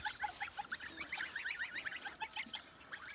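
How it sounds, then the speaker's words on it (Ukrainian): A flock of geese honks repeatedly nearby, overlapping nasal calls in quick succession with no talking. "Я гуляю з гусьми"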